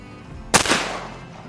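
A single sharp gunshot cracks outdoors while hunting rabbits, followed by a brief fading echo over a steady background hum.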